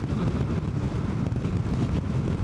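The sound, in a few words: wind hitting rider on Honda NC750X motorcycle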